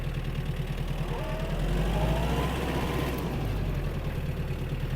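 A Mitsubishi MT-265 mini tractor runs in fourth gear at full throttle, its engine a constant loud, even drone throughout.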